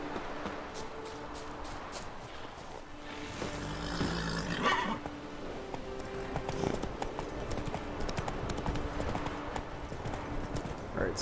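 Roach the horse in The Witcher 3 on Skellige, steady hoofbeats of a gallop with a brief whinny partway through, moderately loud over a wind-like game ambience.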